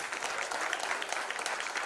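Audience clapping for an offensive line coach at a youth national championship football media day, steady dense applause, close and continuous, with a faint voice mixed underneath.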